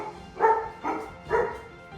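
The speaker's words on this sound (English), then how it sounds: "Sorry for the dogs barking." Three deep dog barks sound at a moderate distance, evenly spaced about half a second apart, with a quiet background between them.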